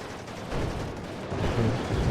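Sustained enemy fire in the Cold War RTS WARNO, a dense rumbling wash of overlapping shots and impacts that grows louder and heavier toward the end, with no talking.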